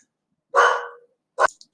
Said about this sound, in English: Sorry about the barking of my dog.